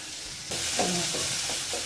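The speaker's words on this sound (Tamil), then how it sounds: "இன்னும் நல்லா வதங்கட்டும் கொஞ்சம் நேரம்" Tomatoes sauté in oil in a pan, and a soft steady sizzle starts abruptly and continues. Faint stirring scrapes sound over the sizzle.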